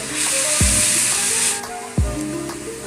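Ginger, garlic and chili paste frying in a pan for soybean chops, sending up a loud close sizzle that swells and fades twice, each burst starting with a sharp thud.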